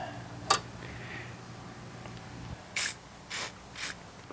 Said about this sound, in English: All right, some WD-40.